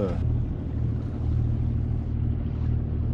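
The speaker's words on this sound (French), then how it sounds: "Aujourd'hui, c'est tout moteur aujourd'hui, 3 heures de voyage." A sailboat motors under engine power alone at about 5 knots and 1008 rpm on the Gambia River, a steady low engine drone with light wind noise throughout.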